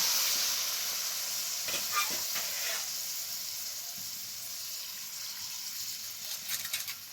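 A little water poured over fried soybeans in a hot pan sets off a bright, hissing sizzle that stays steady and gradually softens, with faint bubbling crackles.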